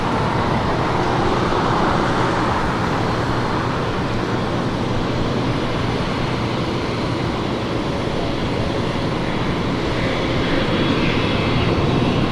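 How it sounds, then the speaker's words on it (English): A Qantas 787-9 Dreamliner arriving from Melbourne at Los Angeles International Airport produces a loud, continuous broadband jet roar that stays steady the whole time, mixed with faint traffic rumble and no voices. "I have the Qantas 787-9 Dreamliner coming in from Melbourne"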